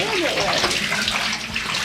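Well water pouring and gushing into small cans at a well on the Canning Stock Route in the Australian Outback, a continuous splashing flow with voices talking faintly underneath.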